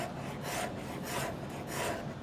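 Steel rasp scraping across wood on a stool with a three-way joint, making rhythmic back-and-forth strokes, about four passes, close and steady with no talk.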